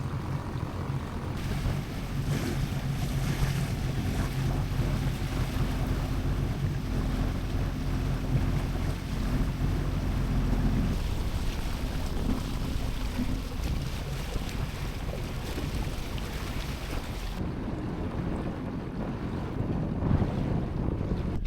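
Strong, steady wind gusts and roars into the microphone aboard a sailboat out on open water, with continuous broadband rumble and water noise throughout and no talking.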